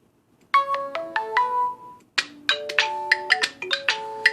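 A bright, tinkling electronic melody plays loudly through the stereo speakers of a Nexus 6P smartphone, a short phrase, a brief pause, then a busier run of chiming notes.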